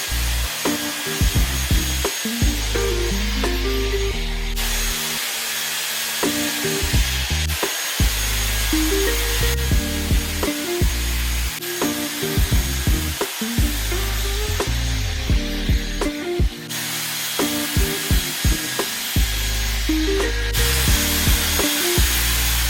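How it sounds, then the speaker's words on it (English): A Dyson hair styler curls hair with a loud, steady airflow whir that cuts in and out with brief pauses and rubbing sounds between curls. "Now I'm just going to do some curls with the Dyson."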